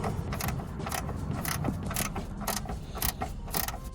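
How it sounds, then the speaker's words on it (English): A ratchet spanner undoes the anti-roll bar bush bolts on an Alfa Romeo Giulietta, giving a close, rapid run of clicking pulses in quick repeated bursts with no talk. "using the ratchet spanner is going to be much faster"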